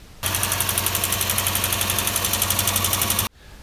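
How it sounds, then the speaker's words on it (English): Lexus GS430 engine idling after cylinder head work, with a rapid, even ticking from the left side of the engine, loud and close, starting abruptly and cutting off after about three seconds. "there's a significant tick coming from the left hand side of the engine"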